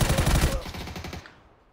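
Rapid automatic gunfire in PUBG: a loud, close burst of quick shots for about half a second, then echoing tails that fade out over the next second.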